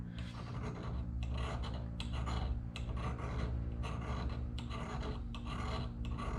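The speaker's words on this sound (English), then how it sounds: "I'm gonna try to pull some shavings into there off of this ferro rod." A steel scraper rasping shavings off a ferro rod, in a quick series of close, gritty scraping strokes repeated rhythmically, without any speech.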